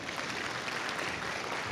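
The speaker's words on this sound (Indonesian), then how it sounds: "Sekali lagi tepuk tangan hadirin sekalian" A crowd of attendees claps at the Achmad Bakrie award ceremony, a dense, even burst of applause filling a short stretch without pause.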